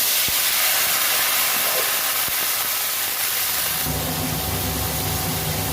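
A splash of water hits turmeric and other spices frying in a pan for a mutton-fat, potato and bottle-gourd curry, releasing a loud, steady steam hiss that shifts to a fuller sizzle partway through; no talking.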